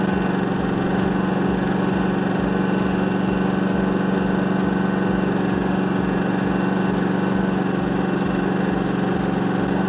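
An Atima AY3000i portable inverter generator runs on smart throttle with a steady, even engine hum and a faint pulsing beat underneath, constant and unbroken throughout at close range.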